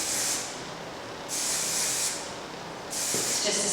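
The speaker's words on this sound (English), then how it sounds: "I'm just going to spray a little bit of hairspray through the ends" Hairspray misted through the ends of styled hair, three bursts of hissing aerosol spray, each lasting about a second with brief pauses between, close and steady.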